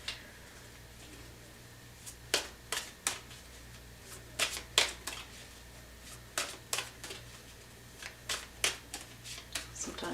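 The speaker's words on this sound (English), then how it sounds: "Sometimes I just feel like I need to shuffle" Tarot cards being shuffled by hand produce a series of soft, crisp riffling bursts at irregular intervals, close and fairly quiet, over a low steady hum.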